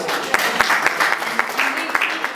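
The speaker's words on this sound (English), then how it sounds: "let's give them applause." Audience applause for the city of Columbus and Franklin County at a housing talk, a short burst of dense clapping with a few sharp claps standing out, steady and moderately loud with some voices mixed in.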